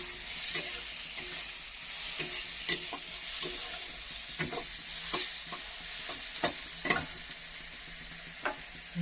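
Curry masala fries in a pan with a constant hiss, and a spoon scrapes and clacks at irregular intervals as the spices are stirred. The sizzle is close and clear, and no one speaks.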